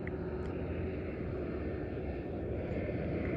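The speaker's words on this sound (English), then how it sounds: "I'm just about on the highway, as you can hear" A steady, dense low roar of passing highway traffic in Western Australia's Murchison region, continuous and fairly loud, with no distinct breaks or voices.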